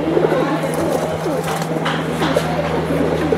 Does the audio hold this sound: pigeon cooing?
yes